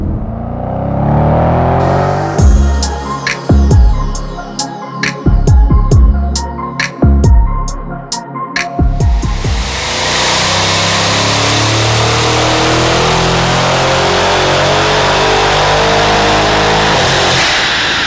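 A tuned Audi S6 making over 700 horsepower revs hard through its exhaust, with several sharp, loud blips and bursts, then a sustained roaring run of the engine that fills the rest of the time.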